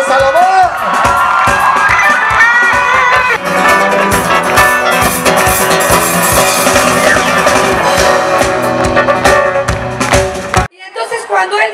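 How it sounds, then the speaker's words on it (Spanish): A large crowd at a Christian worship concert in Coacalco, Mexico, roars with loud sustained cheering, whoops and shouts that fill the space, then cut off abruptly before a quieter tail. "Fuerte el aplauso"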